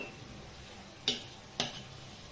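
A spoon stirring zunka mixture in a pan, two sharp scraping clinks against the metal over a faint background hiss.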